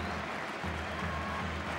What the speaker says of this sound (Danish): Ja, han bliver klappet ud.